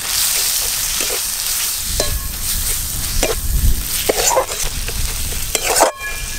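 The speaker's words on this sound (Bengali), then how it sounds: "সমস্ত মশলা খুব ভালো করে কষানো হয়ে গেছে।" Spices with ginger-garlic paste, turmeric and chili powder sautéed in a pan while a spatula stirs and scrapes, giving steady loud sizzling broken by sharp clinks of metal on the pan.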